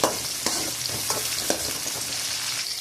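Onion and tomato fry in a pan with a steady, close sizzle, broken by a few sharp stirring clicks and scrapes and no talking.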